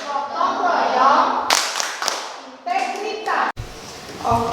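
A classroom of children stands and performs the rhythmic Tepuk PPK clapping chant, sharp hand claps in short bursts mixed with young voices chanting along, fairly close and loud.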